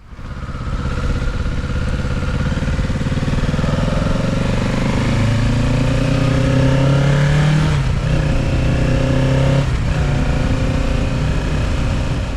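A 2025 Kawasaki Ninja 650 motorcycle engine revs loudly and steadily climbs in pitch, with two brief breaks in the rising note as the revs climb again.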